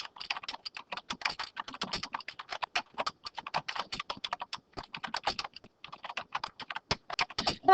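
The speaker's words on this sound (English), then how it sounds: "I'm going to just type this in." Rapid typing on a computer keyboard, dense close clicks in quick irregular runs with brief pauses, no voice over it.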